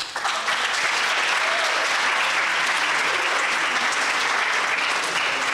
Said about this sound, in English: they all deserve a huge round, once again, of applause.